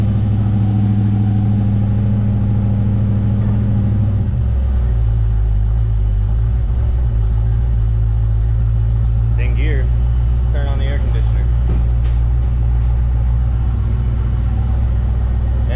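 A 1987 Suburban's fuel-injected engine hums at a steady low idle around 950 rpm with the air conditioning on. Its pitch drops slightly partway through, and someone speaks briefly over the rumble.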